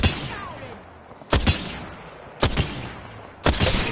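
Apex Legends gunfire rings out as three loud, sharp shots spaced about a second apart, each cracking and decaying over a faint background hiss.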